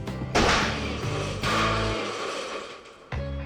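An explosion inside an oven: a sharp, heavy blast bursts out, followed by crashing and clattering debris, then a second thud near the end; loud and close, with no voices.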